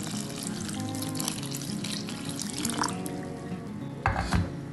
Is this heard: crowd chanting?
no